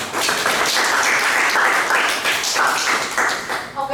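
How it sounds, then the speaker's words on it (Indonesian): Audience applause at a university electrical engineering and physics career-building event, a steady round of clapping from a seated crowd that fills the room at an even level before trailing off at the end. "Mungkin sekali lagi tepuk tangan yang meriah buat Kak Kris"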